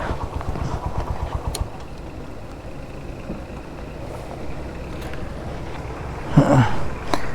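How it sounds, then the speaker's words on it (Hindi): A motorcycle left running at a roadside tea stop on a rainy mountain road, its low steady idle rumbling close and continuous for the whole stretch, briefly topped by a louder burst of activity near the end. "मोटरसाइकिल बंद करना ही भूल गए।"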